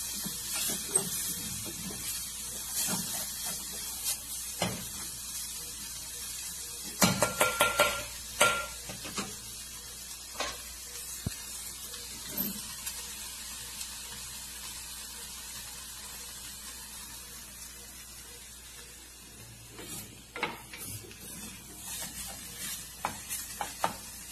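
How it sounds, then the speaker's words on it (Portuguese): Onion cooking in hot fat in a pan, a faint, steady low sizzle under scattered clinks and scrapes of utensils against cookware. "vamos ver como é que vai se comportar a cebola no calor dessa gordurinha aqui"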